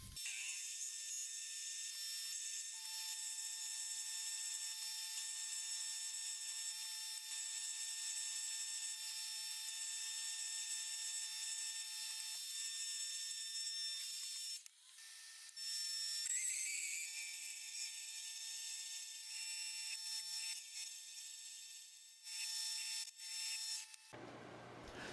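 A drill bores a pilot hole in metal in a machine shop, giving a long, steady high-pitched whine that holds for about twenty seconds, shifts pitch briefly midway, and then cuts off near the end.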